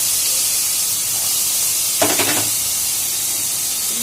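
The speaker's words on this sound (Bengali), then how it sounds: "এবারে আলুটাকে ভাজা করা হবে, আলুটাকে দিয়ে দেওয়া হয়েছে।" Potatoes fry in a little oil in a pan, giving a constant bright hiss of sizzling with one brief louder crackling burst midway, close and without talk.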